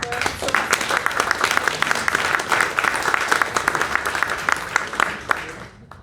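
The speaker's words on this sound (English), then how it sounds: "invite the audience to give our board a round of applause" An audience at a school board meeting applauds steadily, a dense wash of clapping that holds for several seconds before thinning out at the end.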